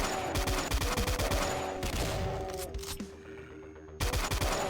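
Chain gun fire in the game DOOM (Shroud of Ashes), a rapid burst of loud gunshots, a pause with lingering tone, then firing resumes.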